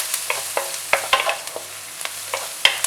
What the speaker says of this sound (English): Next I'm adding onions. So I'm sauteing everything in high heat.